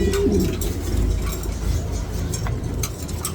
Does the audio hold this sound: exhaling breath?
no